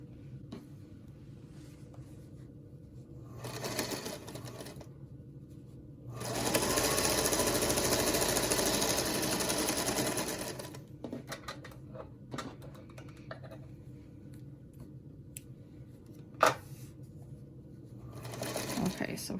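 A sewing machine stitches quilt block squares in short bursts and one longer steady run, a close mechanical whirring rattle, with someone talking in between.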